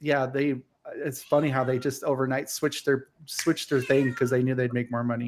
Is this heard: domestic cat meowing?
yes